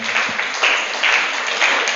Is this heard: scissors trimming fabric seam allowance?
no